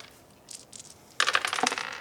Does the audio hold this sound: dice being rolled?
yes